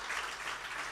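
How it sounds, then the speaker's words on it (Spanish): A church congregation claps together in a short, dense burst of steady applause, moderately loud and filling the room. "Un aplauso al Señor, hermanos."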